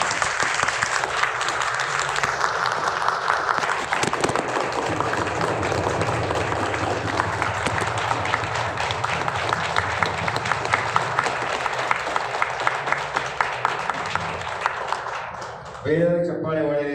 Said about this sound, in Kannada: ನಿಮಗೆ ನೀವೇ ಚಪ್ಪಾಳೆ